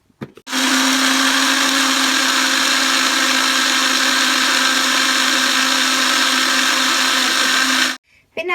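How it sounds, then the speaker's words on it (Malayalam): An electric blender grinding chutney ingredients with water, a loud, steady whirring roar running for about seven and a half seconds before stopping abruptly. "പിന്നെ വാട്ടർ ഒഴിച്ചിട്ട് നന്നായിട്ട് അരച്ചെടുക്കുകയാണ് ചെയ്യേണ്ടത്."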